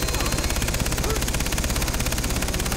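Sustained rapid automatic gunfire in the Far Cry 3 video game, loud continuous bursts with a steady rattling rhythm filling the whole moment.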